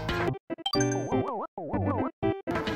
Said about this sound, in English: there's an unused sound effect which was later repurposed to be used in Yoshi's Island for when the player hits expansion blocks